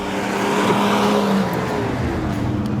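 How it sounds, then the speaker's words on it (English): A 4x4 vehicle in a steep hill drag race, its engine roaring loud and close as it climbs under load, with rising and falling pitch and a steady, continuous drone. "this is a drag race on a hill"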